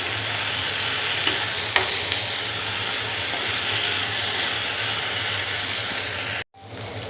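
Soya manchurian sizzles steadily in a pan while a spoon stirs it, with occasional scraping clicks over constant frying noise and a brief break near the end.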